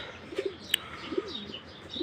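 Racing pigeons coo quietly at home after a 15-kilometre training toss, several soft rolling coos spaced apart with a brief sharp chirp among them, faint over a low steady background hiss.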